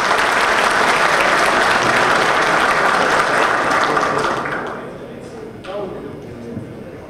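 Loud, dense applause from an audience at a PRM political rally in the Dominican Republic, sustained for several seconds before tapering off into scattered claps and faint background noise.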